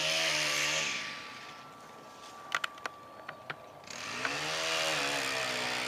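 A chainsaw trims a tree beside a golf course tee. It revs up at first, drops to a quieter idle broken by a few sharp clicks, then revs again near the end, heard from some distance.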